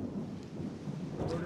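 Thunder rumbling under steady rain, a dense continuous wash of low rolling noise with heavier swells near the start and end, heard outdoors without any clear speech.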